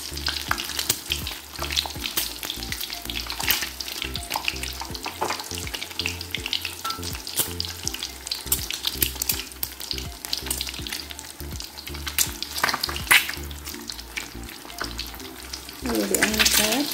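Nasi goreng kampung fried rice stir-fried in a well-used old nonstick pan, with steady loud sizzling, repeated scraping and tossing strokes, and a brighter hiss near the end.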